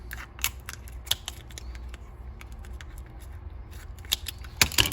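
Kitchen scissors cut down the length of a lobster shell, giving a string of sharp, close, crunchy snips at an uneven pace with louder cracks near the end.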